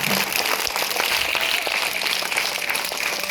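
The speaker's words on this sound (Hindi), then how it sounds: "एक बार उनके लिए भी आप एक जोरदार ताली बजाइए" Dense, steady audience applause fills a Teachers' Day school function honouring Dr. Sarvepalli Radhakrishnan's birthday, with many hands clapping loudly and continuously throughout, close and enveloping.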